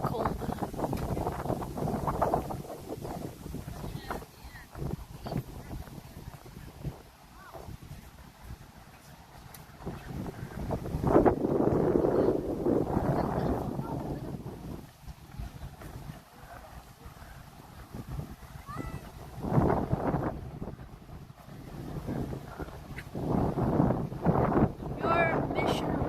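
Outdoor wind in Shantou, Guangdong rushes and buffets over the microphone in uneven gusts that swell and fade, with some indistinct talking in the background.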